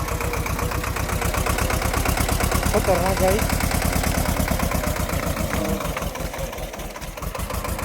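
A tractor loaded with chilli plant waste runs in a muddy field, its engine chugging in a steady, fast pulsing rhythm close to the microphone while someone talks over it.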